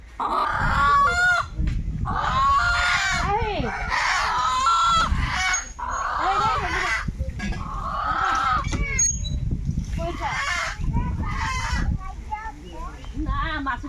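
Desi chickens on a small farm cluck and squawk loudly and close by, with some crowing and goose-like honks among the flock over a background of low noise.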